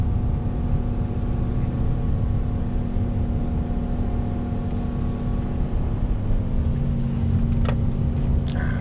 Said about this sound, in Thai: ถ้าได้ยินเสียงเครื่องยนต์จะรู้ว่า รอบเครื่องค่อนข้างจะสูง